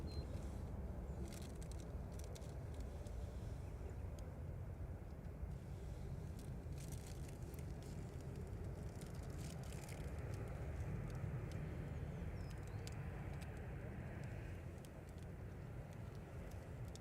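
Ryanair Boeing 737-800 touching down at Manchester Airport, a steady broadband roar of engines and rushing air sustained throughout, moderately distant and without any talk.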